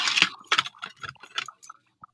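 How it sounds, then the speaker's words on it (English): A bunch of keys jangles nearby in a few quick metallic bursts of clinking and rattling, then slows to a last faint tick. "Ooh, what do these keys go to?"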